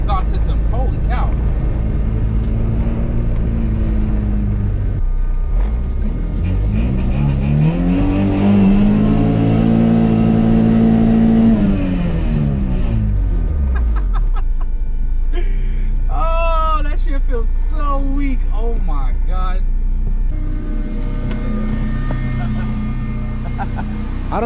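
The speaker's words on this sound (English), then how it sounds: "that burnout felt kind of weird" Honda CRX with a B18C1 GSR engine and a raspy exhaust doing a burnout on acorns: a loud, sustained engine roar that rises to a peak and falls, with tire and debris crackle, as people talk over it.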